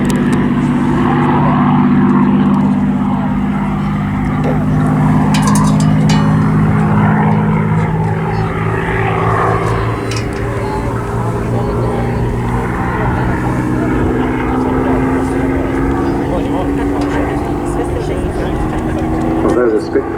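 A pair of Supermarine Spitfire Mk3 and Mk5 fighter planes flies at the Southport Airshow 2018, their propeller engines droning steadily the whole time while someone talks over the sound.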